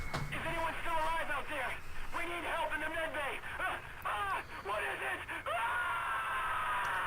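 A character in the action game Star Wars: The Force Unleashed II screams loudly in a string of pained, wailing cries, close and sustained over a steady background hiss.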